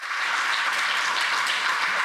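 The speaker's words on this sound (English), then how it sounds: "So let's give them another round of applause." A lecture audience gives sustained, even applause for the speakers, a loud continuous wash of many hands clapping throughout, with no voices.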